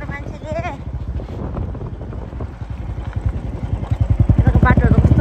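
A motorcycle ridden along a road at night, its engine a steady, pulsing drone under wind buffeting, with the throb growing louder and more rhythmic toward the end and brief voices near the start.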